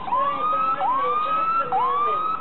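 Ambulance siren wailing in traffic, a loud, steady rising-and-falling electronic wail repeating about three times in quick cycles, close and alone with no talk.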